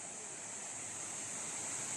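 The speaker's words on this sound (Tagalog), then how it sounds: "Running water." Water rushes steadily at a river bathing spot, a continuous broadband hiss with a bright high-pitched edge, unbroken and fairly close.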